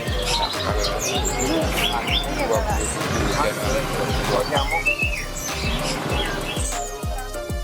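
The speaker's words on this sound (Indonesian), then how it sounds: "ini burung pipit sangat banyak sekali" Many sparrows chirping together at a busy bird market, a dense, bright chorus of overlapping tweets under someone talking nearby, with regular low thumps underneath.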